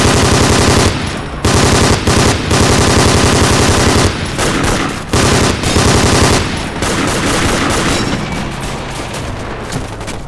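Loud, dense automatic and rifle gunfire from the World War II shooter game Darkest Hour, with rapid bursts and single shots nearly continuous and briefly pausing between volleys.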